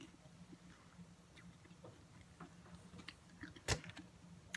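Someone eats bionico, crunchy granola with soft fruits, close to the mic, with quiet, soft chewing and small wet crunches and one sharper click near the end, no talking.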